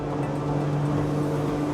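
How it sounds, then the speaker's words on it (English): Twin engines on a Saxdor 340 GTWA boat revving up at wide open throttle near 59 mph, a steady loud droning hum with low tonal bands over rushing water and wind, no talking. "You can hear those engines increasing in RPM behind me."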